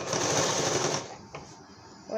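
A sewing machine runs a steady, rapid stitching rattle on a designer blouse for about a second, then stops, leaving a quiet pause with faint background sounds.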